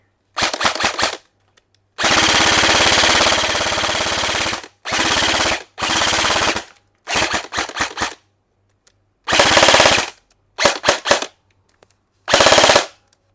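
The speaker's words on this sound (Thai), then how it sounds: "ปืนก็ยิงดีนะครับ ตัวนี้" An E&C M110 SR25 airsoft rifle fires in repeated bursts, some long sustained automatic strings and some short rapid volleys, loud and close with silent gaps between them.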